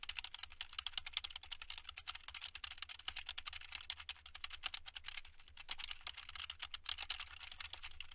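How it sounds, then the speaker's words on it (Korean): Rapid, continuous clicking of computer keyboard keys and mouse buttons, fairly faint and steady, with irregular bursts of taps throughout, picked up by an EPOS H6PRO closed-back headset microphone. "주변 소리를 어느 정도로 수음하는지 키보드와 마우스 버튼을 눌러보도록 하겠습니다"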